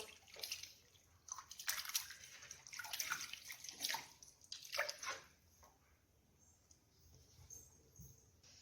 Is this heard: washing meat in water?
yes